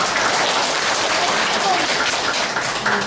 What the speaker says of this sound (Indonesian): Tepuk tangan buat Bapak itu.